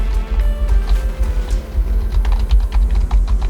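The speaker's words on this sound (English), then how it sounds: "my new keyboard is so quiet" Fast typing on a quiet computer keyboard, a steady run of soft, close clicks over a low background hum with no talking.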